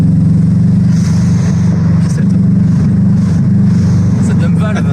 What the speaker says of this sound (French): Quand t'accélères, ça relâche la pression du turbo et t'entends un gros pchit.